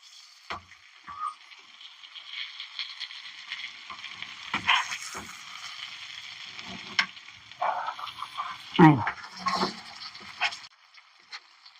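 Fish pieces frying in a pan, a faint steady sizzle of hot oil with scattered louder crackles and occasional scraping as the pieces are turned, close by.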